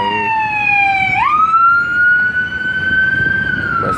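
An ambulance siren sounds at a road accident scene with several vehicles involved, a loud, close wailing tone that sweeps down, jumps up and holds steady, with road rumble beneath.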